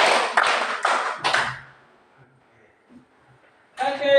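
Four loud group hand claps in quick succession from a standing classroom of students, then near silence with faint shuffling before a voice starts talking.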